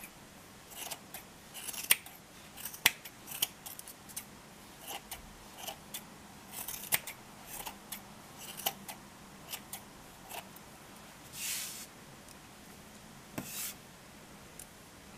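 Scissors snip yarn while making a pom pom for a baby hat, sounding as sparse, faint, sharp clicks and short cuts scattered over a quiet background, with no talking.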